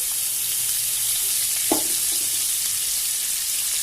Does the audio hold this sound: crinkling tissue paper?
no